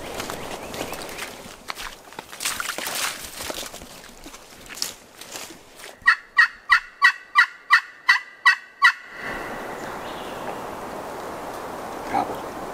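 In Alabama woods, a wild turkey gobbles in a quick burst of repeated rattling calls, followed by footsteps and rustling through leaves.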